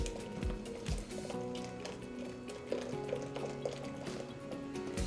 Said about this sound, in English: And then I'll gently pour this back into my saucepan.